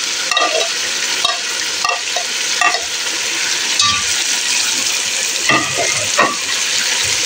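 Chicken fries loudly with ground ginger and garlic while a spoon scrapes and knocks against the pot in repeated strokes, a constant close sizzle throughout, no voices.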